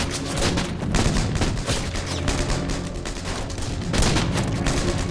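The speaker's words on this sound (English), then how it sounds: "Major shoots 3 of the soldiers in succession, while Cassis hits the remaining 2." Gunfire in a war film battle scene with soldiers near Carpiquet, dense rapid volleys of shots and bursts rolling continuously at high loudness, with swells at the start and near the end.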